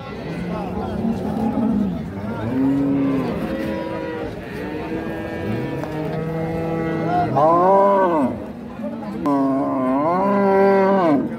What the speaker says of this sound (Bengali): এই যে গাভী এবং বাছুর।